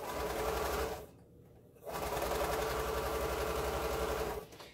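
A sewing machine stitches quilt pieces in a steady, close whirring run that stops briefly for under a second, then resumes before trailing off, with no talking.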